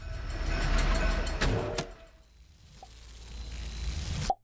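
In the video game The Last Hero of Nostalgaia, a train rumbles loudly past with a heavy rolling roar that fades away, followed by a few sharp clanks and a final abrupt hit, with no talk.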